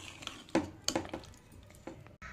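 A spoon stirs kodo millet pongal in a metal pot, giving a few quiet, irregular clinks and scrapes against the pot with soft pauses between them.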